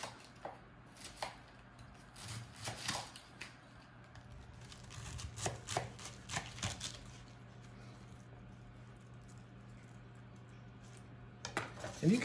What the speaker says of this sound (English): And okay, so let's get chopping.